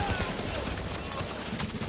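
Dense gunfire from a shotgun fight in a video game, loud and continuous bursts with overlapping shots and a voice talking over them.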